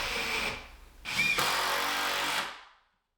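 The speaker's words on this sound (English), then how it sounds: "I'm also going to put a couple of screws here in the feet into my floorboards" A power drill drives screws through a work table's feet into floorboards, whirring in two loud bursts near the mic, the second longer before it winds down into silence.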